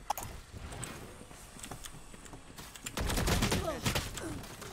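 Gunfire in a tactical shooter video game, a rapid series of sharp shots scattered throughout, growing denser and louder in the last two seconds.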